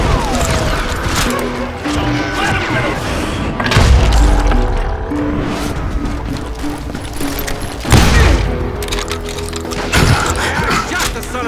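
Gunfire rings out in the Western shooter Call of Juarez: Gunslinger: loud, ragged volleys of shots with heavy booming impacts and cracks, swelling in bursts over a dense battle din.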